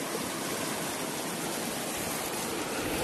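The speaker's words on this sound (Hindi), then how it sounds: "पानी का फ्लो बहुत तेज है" Strong, fast-flowing floodwater rushes in a steady, loud, unbroken roar, with a broadband hiss of churning current and no voices.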